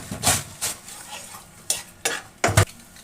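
A spatula scrapes and stirs a masala of ginger and garlic paste with a little water in a pan, with several sharp, uneven clatters against the metal amid a soft sizzle.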